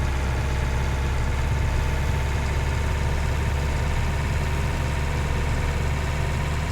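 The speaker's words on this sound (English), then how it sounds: "I can put the tractor down there" A tractor engine idles steadily in Farming Simulator 19, giving a constant low, rumbling drone with a faint mechanical flutter, close and unchanging throughout with no other sounds.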